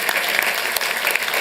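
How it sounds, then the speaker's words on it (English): Applause from a crowd at a city council meeting, a steady dense clatter of many hands clapping that holds evenly throughout at moderate loudness. "let's give them a round of applause."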